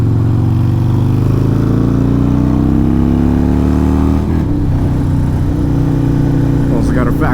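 A motorcycle engine drones loud and close while the rider leans the bike through sweeping curves, its pitch climbing steadily then dropping and settling as the throttle eases, a steady mechanical roar throughout.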